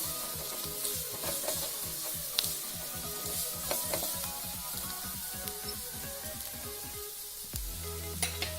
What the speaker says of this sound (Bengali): ধনে জিরে গুঁড়ো 1 চা চামচ দিয়ে আমি কষে নিচ্ছি খুব ভালো করে